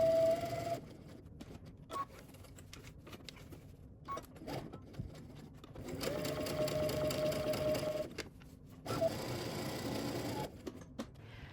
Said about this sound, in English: So we're going to create 2 rows of gathering stitches.